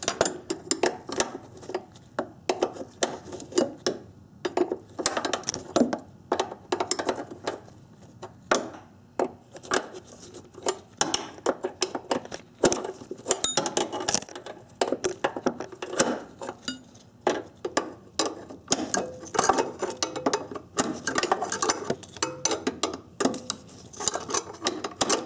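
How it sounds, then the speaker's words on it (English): A box end wrench works nuts on the ABS modulator of a 1994-1997 Honda Accord, giving repeated close metallic clicks, ratcheting scrapes and knocks in irregular bursts throughout. "get a box end wrench and loosen this nut here, this nut here, and this nut back here"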